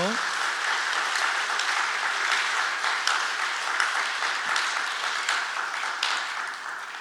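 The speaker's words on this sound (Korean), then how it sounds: "다 같이 박수하시겠는데 이 박수는요" Audience applause fills a church ordination service for newly installed deaconesses, a steady dense clapping wash that holds for the full stretch and fades slightly toward the end, with no voices rising above it.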